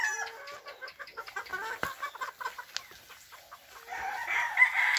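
Pullets and hens on a breeding farm cluck in short, scattered bursts, and a rooster crows toward the end; moderately close, with no talking.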